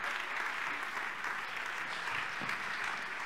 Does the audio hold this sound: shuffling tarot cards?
no